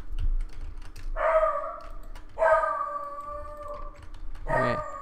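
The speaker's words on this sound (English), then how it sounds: "Oh, now she's barking." Dog barking indoors: three loud, distinct barks spaced about a second apart over a faint background of keyboard typing.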